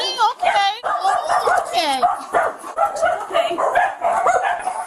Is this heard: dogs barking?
yes